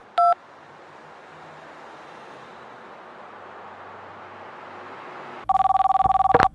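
A telephone in the game GTA IV gives a short electronic tone burst, then after a quiet stretch rings with a loud rapid warbling trill that lasts about a second.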